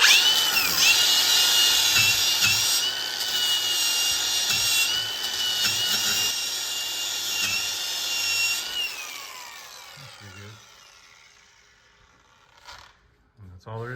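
An angle grinder removes paint from a Porsche bracket ahead of welding in a Honda K24 swap, giving a loud, steady, high whine for about nine seconds that winds down and stops, followed by a few faint knocks.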